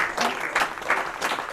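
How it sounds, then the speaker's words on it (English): An audience at a graduation ceremony applauds in a short, somewhat distant patter of clapping that swells and dips in waves. "Give her a round of applause, please."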